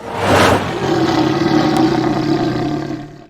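A large wolf-like creature transforming into a bear lets out a loud, deep roar that swells early and then holds as a long, rough growl before fading, with no voices over it.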